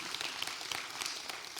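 Audience applause fills the room at a master class, a steady wash of many hands clapping at moderate level throughout with no talking.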